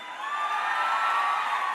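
A large concert crowd at the A Night for Christy event cheers and whoops for a singer, a loud, sustained roar with shrill whistles that swells and holds steady.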